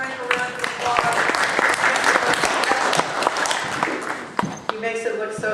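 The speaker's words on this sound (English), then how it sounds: "Let's give Frank a round of applause." An audience at a general membership meeting applauds warmly, dense clapping that holds steady for several seconds and then tapers, with a voice briefly audible near the end.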